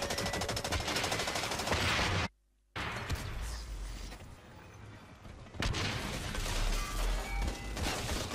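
Rapid automatic fire from a turret in the shooter game Blacklight Retribution, loud sustained bursts that cut out briefly to silence, then resume in heavy volleys.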